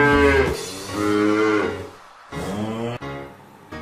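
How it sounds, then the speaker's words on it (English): A cow moos twice, loud and close, in two long, drawn-out calls separated by a short pause. "Cow."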